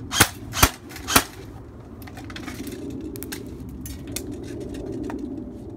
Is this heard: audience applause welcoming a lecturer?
no